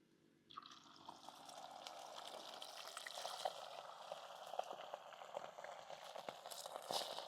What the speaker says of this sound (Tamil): நல்லெண்ணெயில் இறால் பொரிக்கிறபடியா அப்படியே நுரையாக வரும்